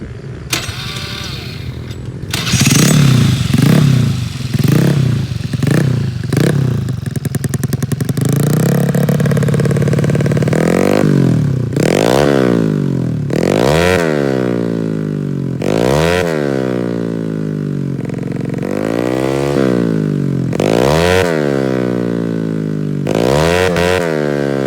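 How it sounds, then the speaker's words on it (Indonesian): A pre-injection Honda Beat 113cc scooter engine is started up close, idles, then revs repeatedly in sharp swelling bursts that fall back to a buzzing idle, loud with no talk. "Kalian yang mau dengar suara motor ini, kita hidupin aja langsung gitu ya"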